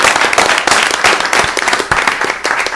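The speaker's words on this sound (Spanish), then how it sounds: "Les pido que le demos un aplauso." Close, loud applause from a seminar audience, with sharp individual hand claps standing out in a dense burst of clapping.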